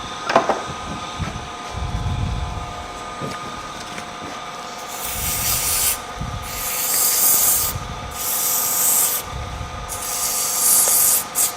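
Hand sanding of a wood piece freshly carved with a gouge in a workshop, heard as repeated rough rubbing strokes in bursts that come and go over a steady background hum.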